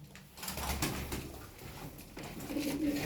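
Çakmaklı pigeons cooing while waiting for feed, soft low coos close by amid rustling and shuffling, with a steady background hum and no talking.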